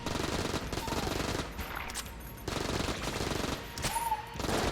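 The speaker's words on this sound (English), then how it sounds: "I did not realise they played the full sound effect even if they didn't fire any shots" Rapid, dense video-game gunfire from Enter the Gungeon fills the whole stretch, a loud continuous automatic burst with brief dips and a few higher synthetic tones layered in.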